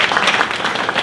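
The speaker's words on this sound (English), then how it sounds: "can I give you another round of applause from me?" Dense round of applause from an audience at a social finance fair, a continuous wash of many hands clapping close and fairly loud, with no voices over it.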